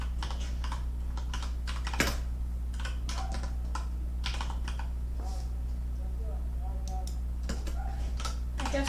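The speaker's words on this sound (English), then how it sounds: "Oh my god, I can't type for my life." Rapid clicking keystrokes on a computer keyboard, near and steady in irregular bursts over a constant low electrical hum, with a few faint voice-like sounds in the background.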